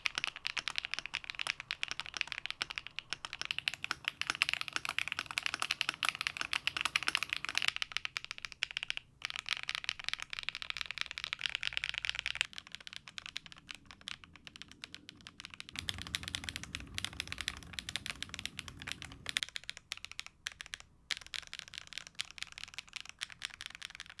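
Rapid clacky typing on a luxury mechanical keyboard built with an aluminum plate, a dense continuous patter of poppy keystrokes close up, with short pauses and no voices.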